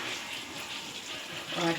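About one and a half cups of water is poured into simmering tamarind broth for a fish pulusu curry, giving a soft, steady gush and splash heard faint and close.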